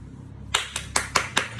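Hand clapping in a casual indoor setting, six sharp, evenly spaced claps close by that start after a brief quiet stretch, with no talking.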